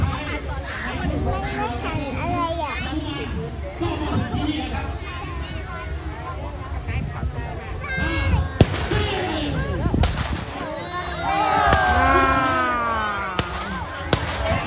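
Scattered gunshots ring out during an army infantry assault demonstration for Children's Day at a military camp in Si Somdet, Roi Et, Thailand. A few sharp, isolated bangs cut through steady crowd chatter and an amplified announcer's voice.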